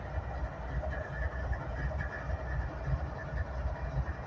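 A northbound coal train with locomotive and loaded rail cars tied down near Abbeville, South Carolina, giving a steady low rumble and engine drone, continuous and fairly close, with no talking.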